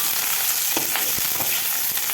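Okra sautéing in hot oil in a pan, a steady crackling sizzle with a few soft stirring scrapes, close and continuous.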